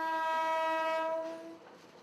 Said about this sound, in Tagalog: Tunog pa lang daw ng tren, mukhang palyado na.